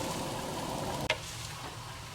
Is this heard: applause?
no